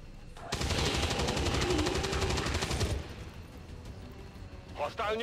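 Sustained rapid automatic gunfire from soldiers in the video game XCOM 2, a dense loud burst lasting a couple of seconds before dropping to quieter background game sound, with a short sharp effect near the end.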